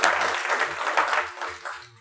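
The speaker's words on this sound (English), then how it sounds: "could we give like a quick little clap for Carl?" Audience clapping briefly for a man named Carl at a talk, a scattered burst of hand claps that swells and then tapers off over a couple of seconds.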